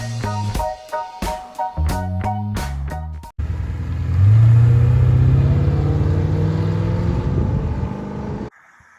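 A Porsche 928S engine rumbles loudly and steadily for several seconds, preceded by a series of short, stepped tonal bursts, then cuts off abruptly near the end.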